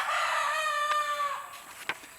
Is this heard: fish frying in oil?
no